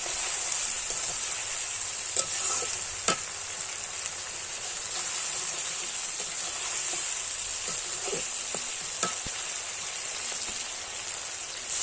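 Masala for a mutton curry frying in oil with a steady, even hiss of sizzling throughout, broken by a few faint clinks of a stirring spoon, close-up and with no talking.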